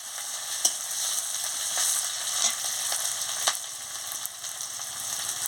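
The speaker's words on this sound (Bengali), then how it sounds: "কাঁচা লঙ্কার কুচি দিয়ে দিচ্ছি, আদা বাটা দিয়ে দিচ্ছি। দিয়ে ভালো করে ভেজে নিচ্ছি।" Chopped green chili and ginger paste fry in hot oil, giving a steady crackling sizzle. Soft clicks of a utensil stirring the pan come through now and then, with no voices.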